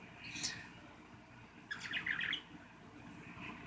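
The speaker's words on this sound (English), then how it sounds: "my bird Speedy is literally telling me to shut up" A pet bird gives a short high chirp, then a brighter burst of rapid tweets a moment later, close and fairly soft over a quiet indoor background.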